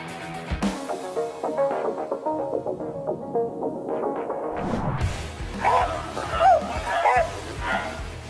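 A Bully Kutta dog reacting to a threat with a run of deep barks and yips mixed with whimpering, loud and close, over a throbbing background and some voices.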